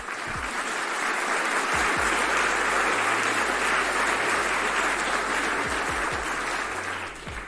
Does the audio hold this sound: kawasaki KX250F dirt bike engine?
no